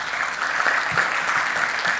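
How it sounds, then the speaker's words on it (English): An audience at the SIGNIS World Congress in Rwanda claps steadily, a dense, even patter of many hands applauding together without pause. "Shall we clap for her once again?"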